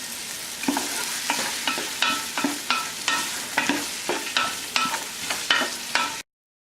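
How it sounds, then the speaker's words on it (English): Onions, salted and headed for a fresh tomato sauce, sauté in a pan with a loud close sizzle. Regular scraping strokes of stirring come about every half second, then the sound cuts off abruptly. "I've been sauteing my onions for about 5 minutes"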